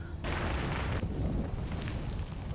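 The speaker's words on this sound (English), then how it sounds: "Wow, that is a cook -off." A burning vehicle's ammunition cooking off in the WWII strategy game Gates of Hell, set in Berlin: a dense, continuous roar of crackling blasts and rumbling bursts that swells loud after a brief quieter start and keeps churning.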